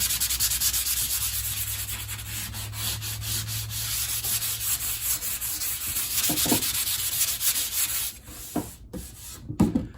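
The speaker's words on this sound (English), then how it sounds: "I'm going to sand it a little bit with some 320 sandpaper." Steady rubbing of 320-grit sandpaper over sealed wood putty on patched woodwork, a continuous close scratchy sanding that runs the whole time with a few sharper strokes and brief pauses near the end, no voices.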